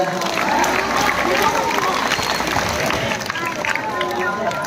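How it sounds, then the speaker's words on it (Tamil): An audience applauds a team after a school performance at a government boys' school annual day, a dense, steady clapping that fills the room for several seconds with crowd noise and a voice mixed in. "நல்ல ஒரு கைத்தட்டி கொடுக்கலாமா இந்த டீமுக்கு?"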